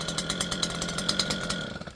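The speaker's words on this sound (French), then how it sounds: "Donc la débroussailleuse, son utilité ici, c'est de faire toutes les parties qui sont inaccessibles pour la tondeuse." A brush cutter running steadily near a lawn area, giving a continuous buzzing engine drone with a rapid pulsing texture, loud and close throughout.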